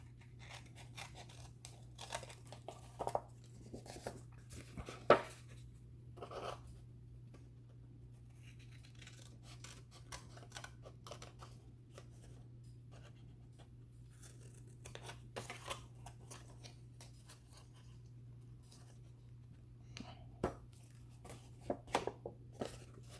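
Scissors snip through paper, cutting angled wedges to miter the edges of a slimline card envelope: scattered short crisp cuts and soft rustles, close and quiet, with long pauses between bursts and no talking.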